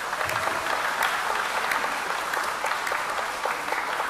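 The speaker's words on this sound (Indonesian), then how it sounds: "Mari sekali lagi kita beri tepuk tangan yang meriah" An audience at a priestly ordination gives a hearty round of applause for the Minister of Religion, a steady, dense patter of many hands with a few sharper claps standing out.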